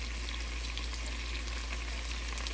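Honey gin garlic chicken drumsticks fry in an open pan with a steady, even sizzle that runs unbroken throughout, close and continuous, over a low background hum.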